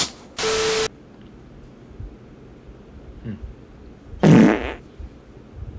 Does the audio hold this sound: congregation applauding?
no